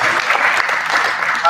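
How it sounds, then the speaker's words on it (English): Crowd applause at a Year 12 school graduation ceremony, a continuous burst of many people clapping, loud and even, through the whole moment. "I think that deserves a round of applause"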